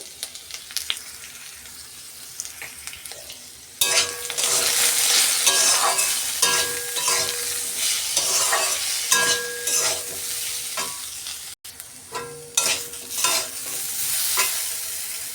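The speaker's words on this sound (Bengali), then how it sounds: "আলুটা ভাজা হয়ে গেছে ভালোভাবে" Potatoes sizzle loudly in a hot pan with salt and turmeric while a utensil stirs and scrapes, the frying growing louder after a quieter start.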